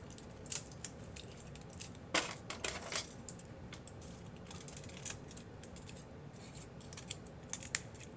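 Scissors snipping wax off a dental model in a lab, faint, quiet crisp cuts scattered irregularly over several seconds, with a brief cluster of louder snips near the middle.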